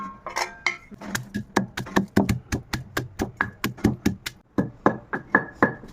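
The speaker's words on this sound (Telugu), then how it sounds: "ముందుగా మనం ఒక టూ స్పూన్స్ అయిన జీలకర్రని దంచుకోవాలి" About two spoons of cumin seeds, with garlic, are pounded with a pestle in a mortar: a close, steady run of around twenty sharp knocks with a faint metallic ring, with no talk.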